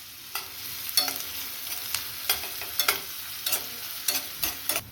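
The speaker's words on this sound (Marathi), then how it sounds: "एक मोठ्या आकाराचा कांदा एकदम बारीक चॉप केलेला फ्राय करून घ्यायचा आपल्याला, थोडासा हलकासा सोनेरी होईपर्यंत" Finely chopped onion frying in oil in a pan under a soft, steady sizzle, punctuated by repeated sharp scrapes and taps of a spoon stirring, close and moderately quiet.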